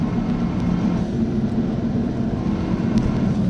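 An Audi RS3 in a street race against a sleeper car, its engine roaring steadily under full throttle with a dense, continuous low rumble, close and loud throughout.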